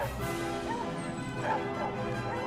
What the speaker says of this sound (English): Hearing the loud barking of the hunting dogs